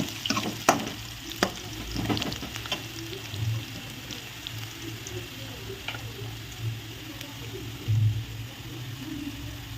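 Spinach and moong dal frying with garlic in a pan, giving a steady low sizzle with occasional stirring clinks and scrapes throughout.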